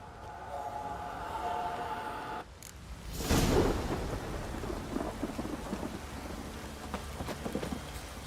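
A thunderstorm in The Witcher video game: steady rain hisses throughout, then a sudden loud thunder crack rolls into a long rumble as the downpour continues without a break.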